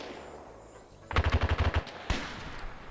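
An RPK machine gun in a WW2 shooter lets off a quick burst of about seven rapid shots, followed by a single louder crack, all heard faint and somewhat distant.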